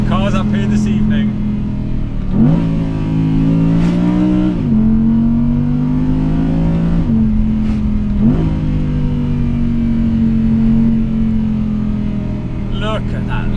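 An Audi R8 GT engine revs and shifts while driving down the Susten Pass mountain road at sunset, rising and falling through several gear changes with loud, close exhaust notes and crackles beneath occasional talk.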